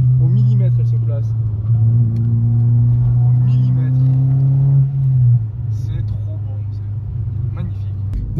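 A Renault Clio 2 RS phase 2 with an unrestricted engine revs hard while driving, a loud in-cabin drone rising in pitch, then easing off, with someone talking over it.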